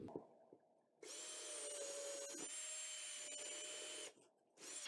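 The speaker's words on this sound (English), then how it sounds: "I'm going to actually drill through the wall, and this is exterior wall" A power drill with a 3/4 inch bit bores through an exterior house wall, a loud sustained whine running about three seconds after a brief pause, then cutting off abruptly.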